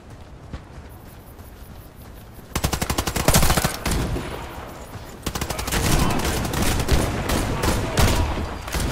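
Loud, rapid automatic gunfire in the online shooter game Warface rattles in sustained bursts after a quieter opening, several weapons firing at once in a close, dense fusillade.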